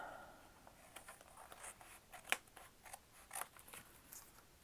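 Scissors snipping through paper while cutting pieces for a collage journal cover, a few close, crisp cuts with sharper clips standing out against quiet room tone.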